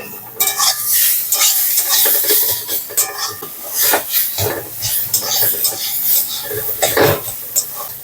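Sliced radish sizzles in a pan while a utensil scrapes and stirs it in uneven bursts, with clinks against the pan and a brief cough-like sound partway through.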